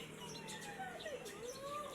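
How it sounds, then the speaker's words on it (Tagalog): A bleeding heart pigeon calls with thin, wavering whistled notes and a few short chirps, fairly faint over a steady background hiss. "Ito naman ang bleeding heart pigeon."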